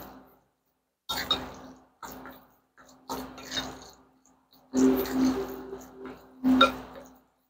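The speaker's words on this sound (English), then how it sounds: "Give this a stir" Baba ganoush stirred in a bowl, a few short bursts of soft wet squishing and scraping separated by brief silences.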